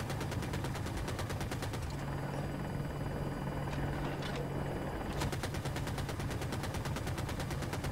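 An attack helicopter's rotors beat in a fast rhythmic thump during a Battlefield 2042 Portal match, loud and constant, while bursts of rapid gunfire rattle over it, pausing briefly midway before resuming, no talking.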